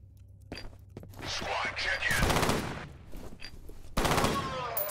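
Rapid gunfire from a weapon in the shooter game F.E.A.R., loud bursts from about two seconds on, with another sharp burst near the end and a voice murmuring faintly in the background.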